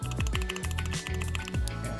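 Close-up typing on an RK84 wireless mechanical keyboard with modded switches and replaced keycaps: rapid clicky-clacky keystrokes in an uneven stream, loud and near, with no talking.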